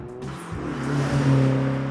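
Small diecast VW Beetle toy car rolling down a racing track past a pond feature, a steady rumbling whir that swells slightly toward the end, with a brief skid, no voices.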